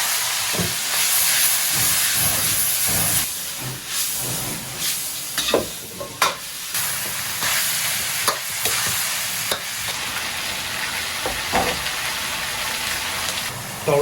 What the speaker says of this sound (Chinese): 下入猪舌头